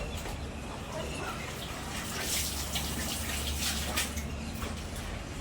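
Water splashes and pours steadily while blankets are washed by hand, a continuous close wet rushing with faint birdsong in the background.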